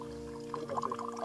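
A Patiala peg of liquor, made without water, is poured into a glass in a short, soft trickling splash close by, lasting about a second.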